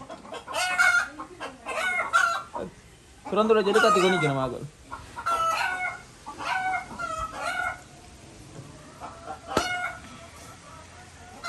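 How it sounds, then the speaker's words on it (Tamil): Chickens cluck and squawk nearby in several bursts, one louder run of clucking in the middle, while a person speaks in between. "கோழி நிற்கிறாங்க"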